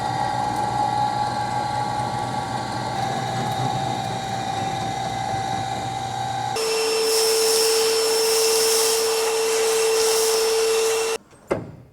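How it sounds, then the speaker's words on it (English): A milling machine cuts metal off a bump stop ear held in a vise for an F-Body: steady loud machine whine and hum, shifting to a brighter, higher cutting tone midway, then stopping abruptly near the end. "We'll put one in the vise here, and we're going to mill that off."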